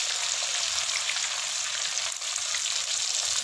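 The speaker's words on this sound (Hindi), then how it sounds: "चिकन अच्छा फ्राई हुआ है" Two kilos of chicken fry in a pan for chicken karahi, a dense, even sizzle held close and loud without pause.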